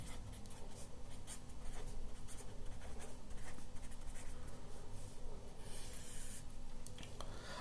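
Hand-writing of integration formulas for a maths lesson, a steady scratchy rubbing of writing that continues throughout at a moderate level, with no talk.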